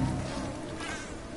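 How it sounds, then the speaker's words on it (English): Bees buzzing in the video game Oddworld New 'n' Tasty, a dense, steady insect drone that fills the whole moment, close and continuous without talk. "There are going to be bees up here."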